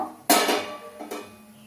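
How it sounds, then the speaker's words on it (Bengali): A wok is set down on a lit gas stove in a home kitchen before stir-frying vegetables for fried rice: two sharp metallic clanks, the first louder, each with a short ringing tail, and no voices. "কড়াইটা আমি এখানে বসিয়ে দেব।"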